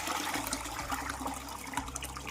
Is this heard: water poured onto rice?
yes